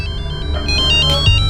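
A phone ringtone plays loudly and close, a quick repeating electronic melody with no talking.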